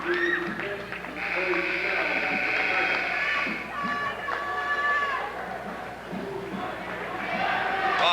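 Rowdy crowd noise fills a high school basketball gym, a dense continuous roar of shouting and cheering spectators with excited voices rising above the din throughout.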